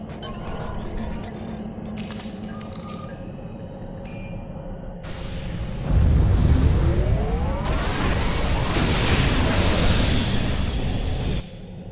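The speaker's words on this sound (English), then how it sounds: "I overload those conduits, I'm sure it'll make a big explosion." Overloaded conduits explode in the Star Trek Online game: mechanical hums and whines build, then a heavy rumbling blast hits midway and roars on with a sweeping tone before cutting off abruptly.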